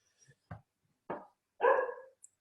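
A dog gives three quick barks indoors, the last one longer and louder, with short silences between them and no voices.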